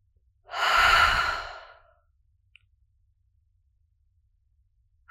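A single deep, close breath swells up and fades over about a second and a half, followed by near silence.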